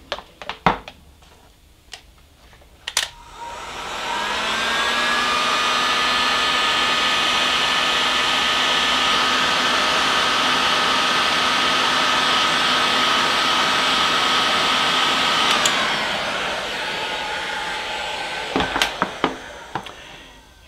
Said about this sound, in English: then heat the whole thing up with a heat gun